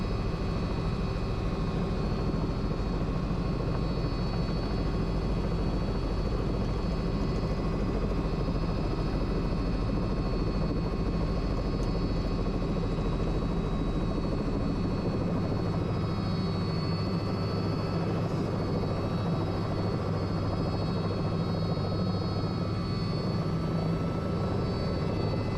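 Steady loud rotor and turbine roar of a medivac helicopter in flight near Bayog, continuous and close throughout with no talking.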